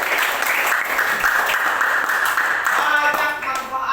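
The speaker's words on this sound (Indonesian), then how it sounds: "tepuk tangan dulu untuk kelompok" A classroom gives a student group a round of applause, with several people clapping in a dense, steady patter and some voices mixed in.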